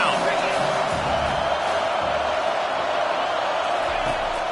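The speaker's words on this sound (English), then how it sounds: "Decibels rising as the crowd gets behind this defense on third down." Steady roar of a stadium crowd in a college football video game, rising as fans get behind the defense on third down, a broad continuous cheer with faint whoops and thuds mixed in.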